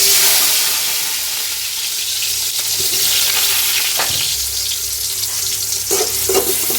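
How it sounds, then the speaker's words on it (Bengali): Onion sizzles loudly in hot oil in a wok while being browned, a steady dense hiss with occasional stirring scrapes, close and alone without speech. "এই পেঁয়াজটা আমি হালকা একটু বাদামি করবো তেলে"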